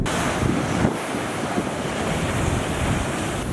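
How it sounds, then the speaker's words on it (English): Ocean waves at Salt Pond Park on Kauai, Hawaii, roll and wash steadily in a dense, continuous roar with gusting wind noise on the microphone and no voices. "We are happy to go to sleep to the sound of the waves."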